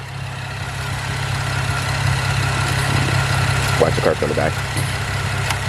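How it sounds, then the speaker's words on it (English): A Camaro engine idles steadily with its MAP sensor unplugged, a low continuous rumble running throughout while a person talks over it. "The car's still running without a map sensor."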